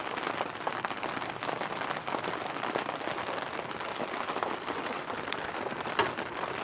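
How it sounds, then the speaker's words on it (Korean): Steady rain patters on surfaces at a rainy seaside campsite at night, a dense even hiss with scattered close drops, fairly quiet and with no voices. "간간이 들려오는 파도 소리하고 빗소리하고"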